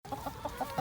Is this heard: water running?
no